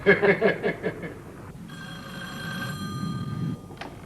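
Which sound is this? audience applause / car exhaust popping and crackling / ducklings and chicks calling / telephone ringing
telephone ringing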